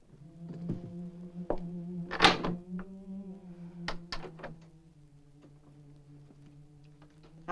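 A door in an old Western drama is unlatched and opened: a few quiet clicks and wooden thunks, with a brief rattle in the middle, over a low steady hum and no talking.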